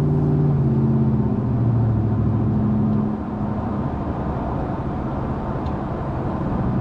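A 2003 Ram 1500 pickup cruising onto the freeway with the A/C running, steady loud engine and road drone with a low hum that eases slightly partway through.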